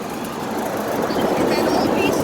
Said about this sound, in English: these air conditioners are pretty loud